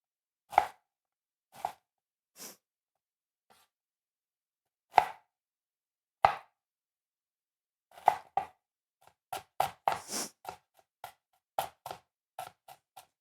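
A knife chopping an onion on a board: a few isolated, spaced cuts at first, then a quicker, irregular run of close, crisp chops, with silence between strokes and no talking.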